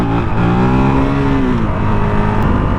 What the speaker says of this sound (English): Feels like you're riding a dirt bike,